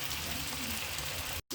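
Steady loud sizzle of fish frying in a hot pan, a continuous crackling hiss that cuts off abruptly just before the end.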